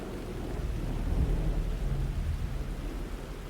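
Steady rain with low, rolling thunder rumbling through a stormy night in Alan Wake 2, a continuous soft wash of downpour under a deep distant grumble, with no talking.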